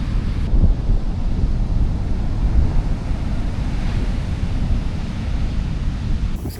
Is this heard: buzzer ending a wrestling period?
no